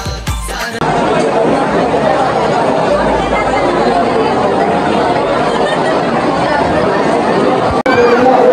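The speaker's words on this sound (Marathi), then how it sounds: "लय गर्दी आज भयंकर" A dense crowd of devotees queues for darshan at the Ekvira Devi temple, a constant loud babble of overlapping voices and chatter with occasional laughter filling the whole stretch.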